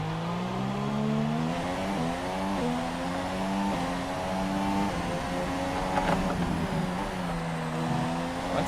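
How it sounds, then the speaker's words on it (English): F1 car engine in F1 2017: a high, strained whine that rises through the gears and dips on downshifts, steady and close, heard alone without talk. "It's hard to do in this car, an F1 car."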